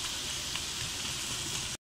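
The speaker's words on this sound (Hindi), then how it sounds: "इसको मैं अच्छी तरह से भूनती जाऊंगी" Mutton Shinwari karahi with tomatoes frying in a karahi pan, a dense steady close sizzle with faint stirring, no voices, stopping abruptly at the end.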